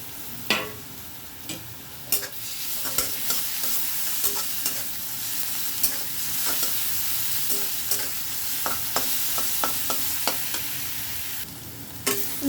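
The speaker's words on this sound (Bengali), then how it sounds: "আমি 1 মিনিটের মতো এটাকে ভেজে নিয়েছি রসুনটাকে" Green chillies and garlic fry with onions in a pan, a continuous close sizzle punctuated by frequent sharp scrapes and clicks of a stirring spoon against the metal.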